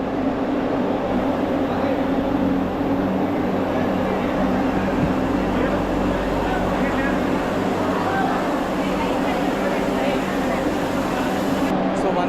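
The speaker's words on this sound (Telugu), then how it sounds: "సో వందే భారత్ ట్రైన్ విజయవాడ నుంచి బయలుదేరబోతుంది ఇప్పుడే." An orange Vande Bharat express train departing Vijayawada on its inaugural run, with a continuous loud rolling rumble and hum of the moving train from close by.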